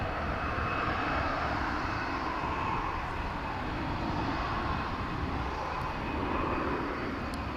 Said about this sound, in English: So is that Delta flight we were telling you about that's headed off to LAX.